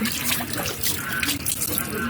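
Tap water gushes into a pot that has just been cleaned of mud and is being filled for boiling salted eggs. The splashing runs close and continuous, fluctuating slightly as the pot fills.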